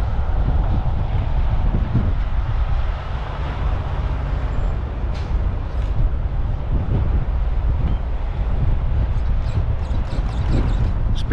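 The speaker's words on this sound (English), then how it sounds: "Sorry for the wind, guys. I know it's kind of windy today." Gusty outdoor wind buffeting the microphone, a loud low rumbling roar that fills the whole stretch, with faint higher whirring from a radio-controlled car in the background.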